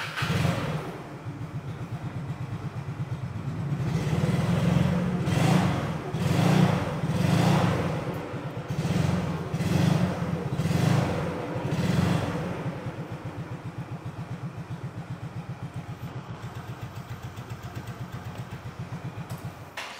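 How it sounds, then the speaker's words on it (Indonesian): A 2007 Yamaha Mio Sporty 5TL scooter engine starts and idles nearby, with a low putter that swells through several rhythmic revs before settling into a steady idle with no talk. "kurang lebih seperti itu untuk suara mesinnya"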